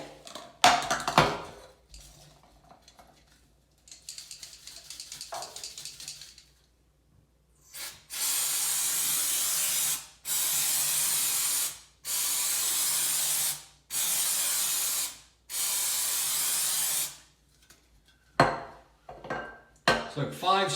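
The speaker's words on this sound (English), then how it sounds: "Let's give him a spray." CTec Multisolve silicone remover sprays from an aerosol can in five loud, even hissing bursts, each about a second long with short gaps, preceded by clinks and rustles of handling the can.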